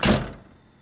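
A Jeep door swings shut with one solid, close thud after its hinge bushings were replaced, then fades into quiet.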